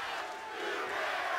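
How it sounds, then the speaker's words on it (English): A large wrestling crowd inside the Alamo Dome chants and roars during a TNA Impact steel cage Lockdown event, a steady wash of voices that grows slightly louder. "You hear the great crowd here in the Alamo Dome telling Garrett what they think of his abilities"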